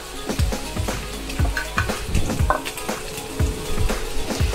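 Octopus and mussels fry in a pan, a steady sizzle broken by repeated low clanks and scrapes as the seafood is stirred, close and fairly loud with no talk.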